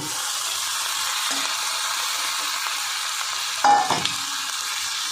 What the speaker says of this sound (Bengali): এবার আমি ওই যে কুচিয়ে রাখা চিচিঙ্গাগুলো দিয়ে দেবো।